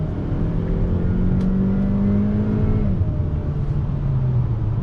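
A 2020 Kia Optima SX sedan's engine pulls under throttle, a steady loud drone with rising harmonic tones and road rumble heard from inside the cabin.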